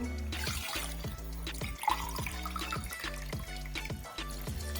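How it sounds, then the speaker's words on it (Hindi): Water poured into a pot of rice for chicken biryani, a steady close splashing pour lasting several seconds beneath rhythmic background music. "अब पानी जो है इसमें शामिल करेंगे हम"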